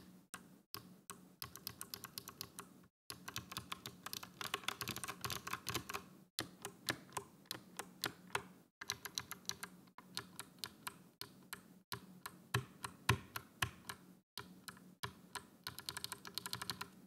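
Custom GK61X mechanical keyboard fitted with Jade switches, typed on in quick bursts of crisp clicky keystrokes with brief pauses between runs, close-up and isolated.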